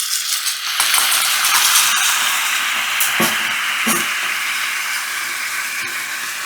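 Chicken and leek sauce bubbles in a pan over medium heat, a steady loud hiss and sizzle with scattered small pops and clicks, no voices.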